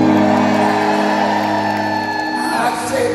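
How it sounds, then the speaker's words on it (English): Arena crowd at a concert at Mohegan Sun, a loud sustained roar of cheering and whooping, with steady tones underneath and a voice rising above near the end. "Now the whole Mohegan sun arena is cheering."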